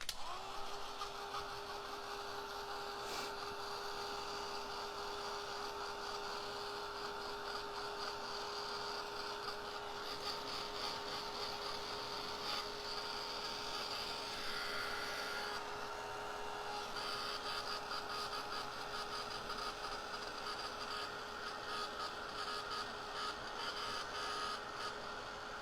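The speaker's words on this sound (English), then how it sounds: "I do want to hit this with the dryer a little bit" A crafting heat dryer blowing on a handmade card, a steady whirring drone with a constant high whine that runs unbroken and close for the whole stretch, no voices.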